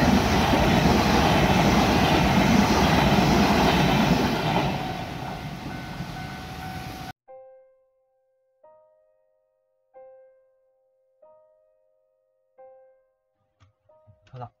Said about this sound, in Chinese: 咁就啱啱就列车到啦